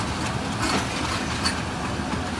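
The rerouted Mianwali Express rolls between Lalamusa and Mari Indus, with locomotive 8321 hauling the rake. A steady, close rumble of running rail cars carries faint rhythmic clatter and brief metallic squeals.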